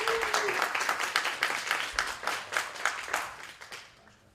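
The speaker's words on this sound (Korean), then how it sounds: "여러분께서 뜨거운 박수로 박종훈 위원님을 앞으로 맞아주시기 바랍니다" An audience at a lecture on Mises' Human Action claps to welcome the next speaker, a moderate round of distinct claps that grows patchier and thins out toward the end.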